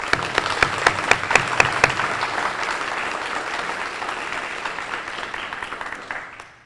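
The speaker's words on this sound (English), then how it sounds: "Please join me in applauding all of these awesome people who made this vision a reality." An audience at an elementary school ribbon-cutting ceremony applauds: a few sharp, close claps at first, then sustained even clapping that slowly fades out.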